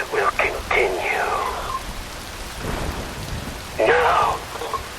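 Rain pours in Metal Gear Rising: Revengeance as a steady hiss, with low rumbles beneath and a voice speaking over it in two bursts.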